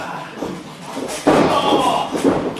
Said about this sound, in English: Slams him down with a suplex.